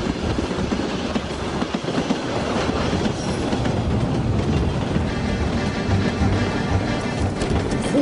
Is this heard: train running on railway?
yes